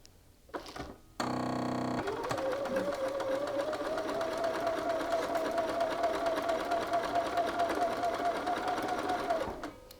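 A sewing machine runs a 3/8-inch yoke seam on an Archer shirt, starting with a loud rattle and settling into one long, steady whirring run up close; a voice is briefly heard alongside.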